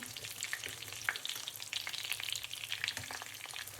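Fish fillet frying in a pan, a soft steady sizzle with small crackles and pops, close and fairly quiet, no voices.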